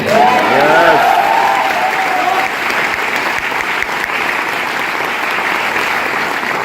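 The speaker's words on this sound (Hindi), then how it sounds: "थैंक यू सो मच आपकी तालियों के लिए।" Audience applause at a Vestige direct selling company event, a loud continuous wash of clapping from a large crowd that holds steady throughout, with a brief tonal voice or cheer in the first seconds.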